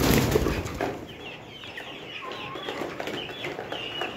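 Layer chickens of the Shaver Star breed, 64 days old, cluck and chatter in a poultry shed, several birds making overlapping clucks and short calls at moderate distance, with a rustle of flapping near the start.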